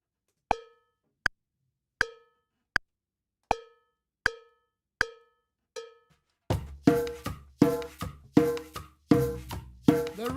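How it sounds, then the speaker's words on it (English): Cumbia, a traditional rhythm from the Colombian Caribbean, played on a djembe, opening with seven evenly spaced sharp single strikes, then a denser, louder run of layered strikes and rolling beats in a steady pattern, with no talking. "pretty traditional rhythm from the Colombian Caribbean, that is cumbia."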